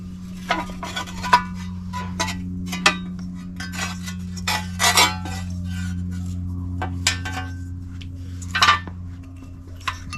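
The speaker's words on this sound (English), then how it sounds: "So removing the backing plate" Sharp metallic clinks and taps ring out irregularly while the brake backing plate comes off the front brakes of a 2004 Chevy Colorado, over a steady low mechanical hum.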